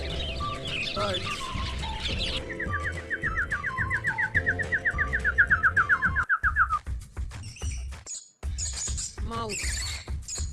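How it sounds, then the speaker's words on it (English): Birds chirp in a rapid run of short tweets, then a descending series of quick calls, alongside other animal sounds and brief gaps, fairly loud and close. "Birds."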